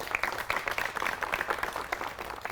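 Applause from a public-event audience at a cleanliness campaign programme, steady dense clapping sustained without a break, moderately loud and fairly close, with no talk over it.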